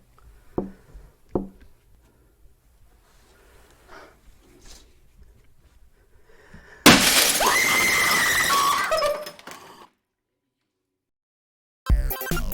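Glass shatters loudly and abruptly after a hushed stretch of faint taps and breaths, the breaking burst ringing on for a couple of seconds before silence.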